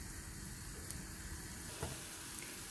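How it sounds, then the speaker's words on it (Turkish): Steady sizzling of chopped onions frying in olive oil in a pan, a continuous crackling hiss with an occasional stir, close and fairly quiet. "Şimdi güzelce kavuruyorum."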